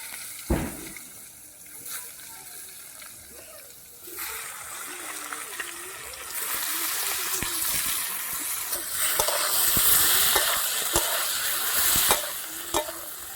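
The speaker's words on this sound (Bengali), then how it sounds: "এবারে ওই তেলেই আমি বেগুনগুলো একটু ভেজে নেব।" Large eggplant pieces frying in the oil left over from frying katla fish, a sizzle that grows louder and brighter partway through, with stirring clatter and sharp clicks above a background hum.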